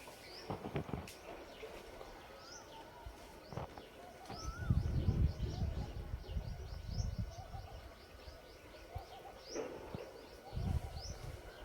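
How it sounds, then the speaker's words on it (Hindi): A bird calls repeatedly in the distance, short chirps scattered over a soft rumbling background with occasional nearby thumps. "कहीं न कहीं कोई चिड़िया बोल रही है"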